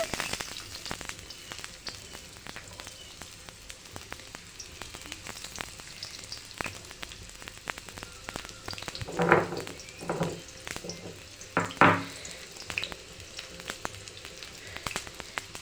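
Chopped onions fry in hot oil in a pan for a home-style chicken fry, giving a soft, steady sizzle with a few louder crackling bursts and stirring clatters along the way.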